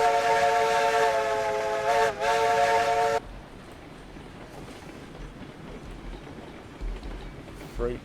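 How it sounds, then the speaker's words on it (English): A steam locomotive pulling a freight train in the RailRoads Online game sounds a long, loud harmonic whistle blast with a brief dip, then cuts to quieter rolling track rumble and a short final toot. "Freight train coming through."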